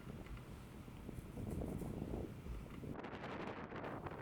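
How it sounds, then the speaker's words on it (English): Steady wind gusts buffet the microphone on an open disc golf course, producing a loud rumbling roar that swells and shifts throughout, with no voices. "It was getting windy."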